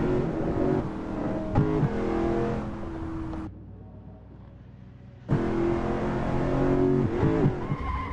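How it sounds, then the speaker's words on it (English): Safety car spinning out in a Super Formula racing game at Barcelona, engine tones shifting and tires squealing in a skid, a short drop in sound midway, then the engine drone returns. "The safety car just spun out, ladies and gentlemen."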